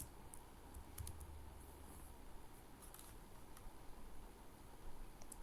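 Quiet, steady typing on a computer keyboard while entering JavaScript code for an Anime.js stagger effect, with soft scattered key clicks over low background hiss and no talking.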